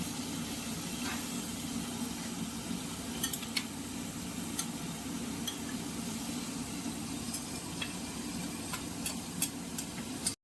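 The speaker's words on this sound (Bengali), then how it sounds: "এখানে দিয়ে দেওয়া হয়েছে সর্ষের তেলের মধ্যে পেঁয়াজ আর তেজপাতা, সাদা জিরা" Onion, bay leaf and cumin sizzling in mustard oil in a pan, a steady low frying hiss with occasional faint clinks of a utensil throughout.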